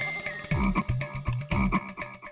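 Frog croaks in a steady rhythm, a repeating pattern of loud, near croaks with short gaps between them, with no voices over them.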